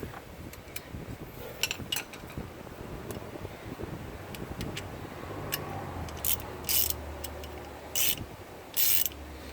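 Socket ratchet being turned on the rear brake of a 2014 Acura MDX, giving repeated short metallic clicks and rattles close up, with a few louder bursts of clicking near the end and no talking.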